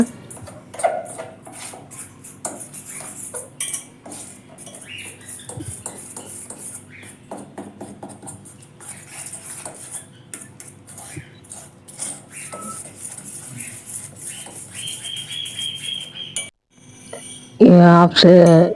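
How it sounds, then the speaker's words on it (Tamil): Two eggs are whisked together in a bowl, producing continuous light clinking and tapping of utensil against the bowl, close and steady, with a voice talking over it and a louder burst near the end. "2 முட்டையும் உடச்சி ஊற்றியாச்சு. இப்போ எல்லாம் ஒன்றா மிக்ஸ் பண்ணுறாங்க."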